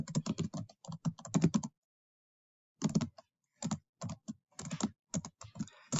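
Fast typing on a computer keyboard while writing a letter in a word processor, a quiet close run of irregular key clicks in two bursts separated by a pause, with the enter key struck between lines.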